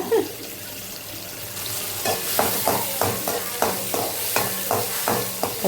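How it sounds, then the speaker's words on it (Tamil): Chopped tomatoes and onions sizzle in a pan while a utensil stirs and scrapes in a steady, repeated rhythm, close and moderately loud. "இப்போ இதில் பொடிசாக நறுக்கி வச்ச தக்காளி போட்டுக்கோங்க. அதையும் நல்லா வதக்குங்க."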